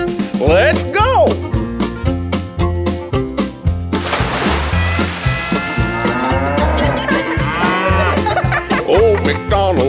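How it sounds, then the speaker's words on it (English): A cartoon cow moos repeatedly within an upbeat children's farm nursery-rhyme song, loud moos riding over bouncy backing music and singing voices. "And on his farm he has a cow, E-I-E-I-O."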